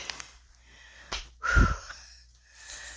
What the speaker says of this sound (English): I'm breathing hard because I really tried to push